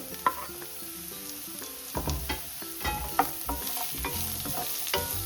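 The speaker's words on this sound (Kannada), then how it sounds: "ಪಡವಲಕಾಯಿ ಕೂಡ ಚೆನ್ನಾಗಿ ಫ್ರೈ ಆಗಬೇಕು" Onion and snake gourd sizzle in a pan, with the spatula scraping and knocking in short, uneven strokes over a steady close hiss; no voices.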